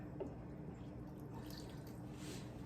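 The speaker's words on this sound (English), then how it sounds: "I'm going to just add some water" Water poured from a tap or jug into a pot of bone broth while making homemade dog food, a steady soft trickling and splashing at close range, quiet and continuous throughout with no talk.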